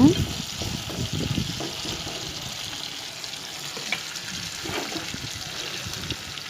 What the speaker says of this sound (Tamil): தக்காளி நல்லா வதக்கிக்கோங்க